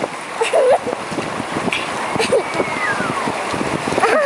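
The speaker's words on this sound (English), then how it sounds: "Here we go in the rapids." Boat riding through river rapids, with rushing water and splashes around the hull, loud and continuous, with excited voices and shouts over it.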